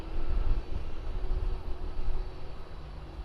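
Global X airliner arriving at Miami Airport from Cuba: a steady low engine rumble heard at a distance, broad and continuous with a faint tonal whine, no voices.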